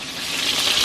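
Water pours from a container into a cooking pan to make gravy for chicken and rice, a short, steady hissing splash that grows slightly louder over under a second, close by and heard alone with no talking.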